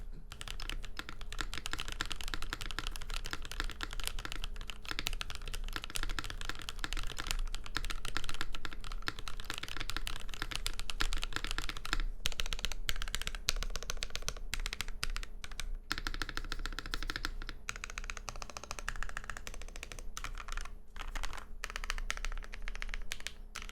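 Continuous steady typing on a Thera75 V2 keyboard with factory-lubed Black Sesame linear switches, PPT keycaps and a top-mounted carbon fiber plate; dense, close keystrokes run the whole time with brief pauses near the end, no talk.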